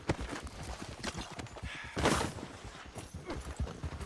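A horse gallops in Red Dead Redemption 2, its rapid, loud hoofbeats pounding close and continuous with a brief gust of noise midway.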